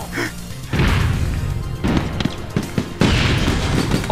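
Sniper gunfire in the video game APB: Reloaded, loud sharp shots and booming bursts mixed with noisy combat over several seconds, with brief voices underneath.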